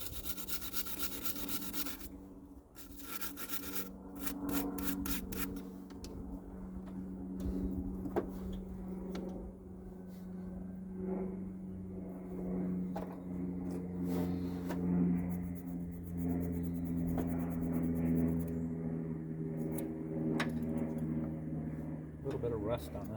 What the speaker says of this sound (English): nothing scratches rust off better than a file